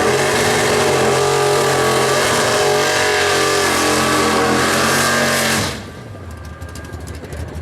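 Cars at a no-prep eighth-mile drag race at North Weald roar loudly down the strip under full acceleration, the sustained engine howl cutting off abruptly to quieter distant engine noise.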